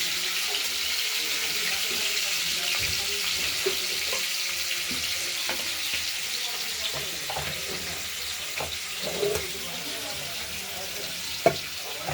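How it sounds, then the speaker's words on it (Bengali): Paneer pieces fry in oil in a kadai, a constant bright sizzling hiss with occasional clinks and stirring scrapes from a utensil, close and fairly quiet, no speech over it. "পনিরগুলো অর্ধেকটার মতো দিয়ে দিয়েছি, ভেজে নিই, তারপর বাকিগুলো একসঙ্গে ভাজা যাবে।"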